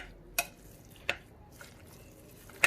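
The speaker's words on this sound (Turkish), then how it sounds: "Bunları şimdi karıştırıyorum" Ground meat filling for vine-leaf sarma stirred in a bowl, heard as three or four sparse, sharp scrapes and clicks over a quiet background.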